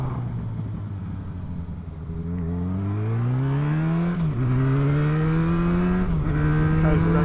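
Motorcycle engine revving in rising and falling pitch sweeps as the rider downshifts, with sharp throttle blips between gears, loud and close throughout.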